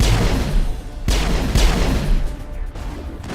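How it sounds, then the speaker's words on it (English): Gunfire and explosions in the video game Mass Effect, including a rocket blast, with loud sharp bursts at about one and one and a half seconds over dense continuous combat noise. "I think that was a rocket that I almost took to the face"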